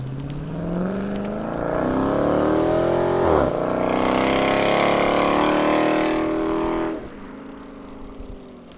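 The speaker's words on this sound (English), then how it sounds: "Ignoring that excessively loud exhaust" A car with a loud, droning exhaust approaches and passes close by, its engine note rising and then dropping away as it leaves.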